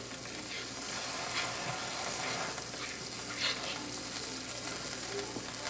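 Beef tenderloin sizzling in a hot pan with soy sauce, a continuous loud frying hiss with occasional soft scraping as it is stirred, close and unbroken by voices.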